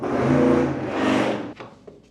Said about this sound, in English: I don't know if you guys heard that, but like a massive car